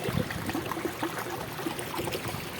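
Clean, cold spring water flows steadily from its source, a continuous soft trickling and babbling stream close by, with no voices.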